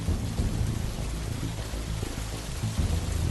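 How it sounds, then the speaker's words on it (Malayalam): Heavy rain with rumbling thunder, added as a sound effect in an animated Malayalam story about goats and a rising river; the rain keeps up a steady roar over low rolls of thunder, with no speech. "നല്ല മഴ കാരണം നദിയിൽ വെള്ളം പൊങ്ങും."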